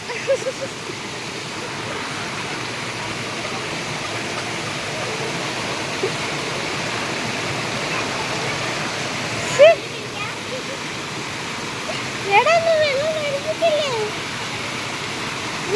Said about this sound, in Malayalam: എടാ വെള്ളം